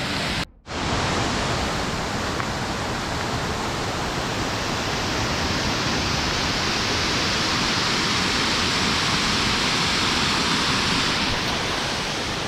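Steady broadband rush of a waterfall, loud and continuous after a brief dropout near the start, with no voices.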